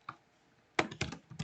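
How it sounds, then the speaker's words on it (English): Brief bursts of computer keyboard typing: a single tap, a short pause, then a quick cluster of close, crisp keystrokes. "So I'm typing it here"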